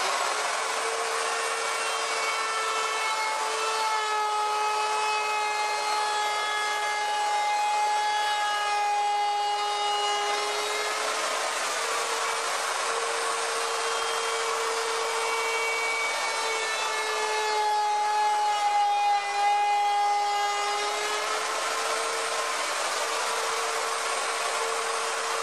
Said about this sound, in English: come along with the router and do another climb cut nice and easy, and we'll profile the other side